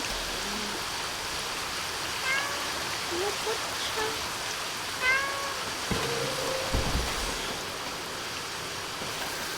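A cat meows several times in the video game Stray, short plaintive calls spread over a steady wash of rain-like ambient noise, with a few soft thuds near the end.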